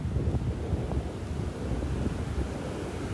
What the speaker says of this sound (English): That wind has definitely increased.